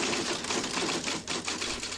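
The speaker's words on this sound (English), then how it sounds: "I am writing typing rather, a letter that's going to go to Mikhail Gorbachev and George Bush" A typewriter clatters steadily as a letter is typed, dense rapid key strikes with a brief pause, close and continuous with no voices.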